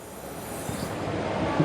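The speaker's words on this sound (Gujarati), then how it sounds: "આ છે પાંડા ટ્રેન." A panda-themed toy train runs on the ground floor of the Veneziano Mall in Surat, giving a steady, close rumbling roll that swells slightly toward the end.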